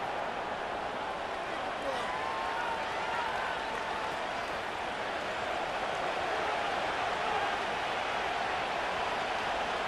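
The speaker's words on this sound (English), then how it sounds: "The crowd cranking it up another notch before 3rd and long." A simulated stadium crowd in Madden NFL 25 roars continuously during a Ravens vs. Commanders game, a dense, steady wall of cheering with a commentator talking over it.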